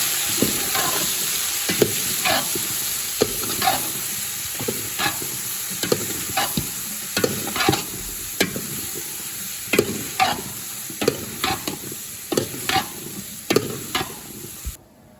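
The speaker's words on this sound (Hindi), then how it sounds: "इनमें जो है ना आप सब्ज़ी ऐड करने लगे हैं, इसको अच्छी तरह मिक्स करेंगे" Cauliflower and potato, about two kilos in total, are stirred through marinated masala in a sizzling pot, with a steady frying hiss broken by regular close scraping strokes of a spoon, no talk.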